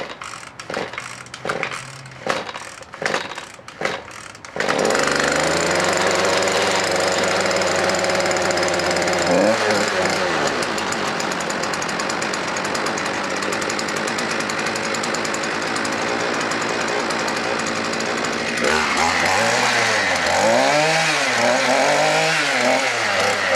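Small gasoline engine pull-started with several rapid coughs, then catching into a loud, steady buzzing idle that revs up and down near the end.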